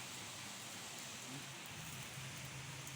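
Steady rain pours down in a dense, even hiss, with no voices and no pauses.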